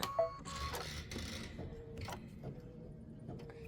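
A quiet embroidery sewing machine stitches a satin stitch, giving a soft mechanical whir with light repeated ticks and clicks. A few sharper mechanical knocks come early, then the running settles into a low, even hum.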